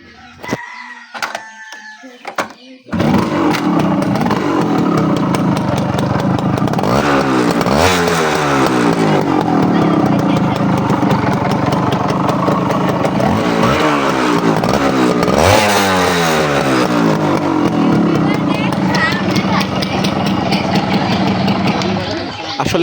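A Yamaha Deluxe 100cc motorcycle with original silencer starts and runs close by, idling steadily with a few rising revs, while people talk over it and a rooster crows in the background.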